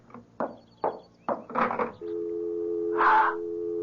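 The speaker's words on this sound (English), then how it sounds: "It's the dial tone." A few short clicks and clunks, then a steady continuous dial tone hums on alone, with a brief rustle partway through.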